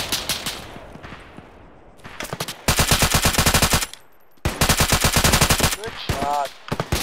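Bursts of machine gun fire in the military shooter Arma, rapid loud rattling volleys separated by short pauses, with a brief radio-like voice near the end.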